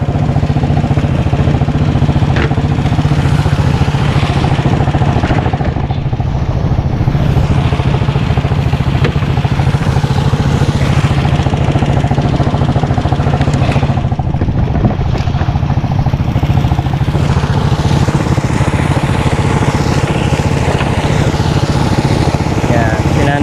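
A small engine runs steadily throughout with a constant droning hum at a tilapia fish market, keeping fish alive, and voices talk intermittently over the mechanical noise.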